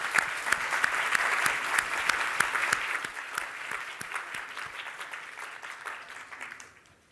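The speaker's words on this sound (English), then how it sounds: "please give him another round of applause" Audience applause at a public health forum event, dense rapid clapping that holds strong for several seconds and then gradually thins and fades out.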